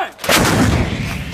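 A single loud, close artillery blast goes off during a bilateral Marine live-fire artillery exercise in Balikatan 23, with a heavy boom followed by a rolling, decaying rumble.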